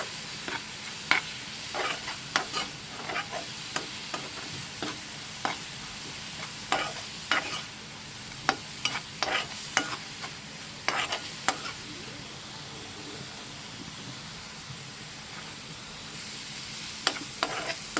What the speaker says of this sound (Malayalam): ആവശ്യത്തിന് ഉപ്പും കൂടി ഇട്ട് ചെറുതായിട്ടൊന്ന് വഴട്ടിയെടുക്കുക